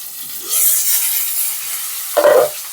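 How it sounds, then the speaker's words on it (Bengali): A rohu fish head frying in hot oil gives a broad hiss that rises after a quiet start, holds steady through the middle, then swells into a louder spitting burst near the end. Nobody speaks. "মাছের মাথাটা যখন দেওয়া হয় তেলে প্রচণ্ড পরিমাণে তেলটা ফুটে হিট করে গায়ে"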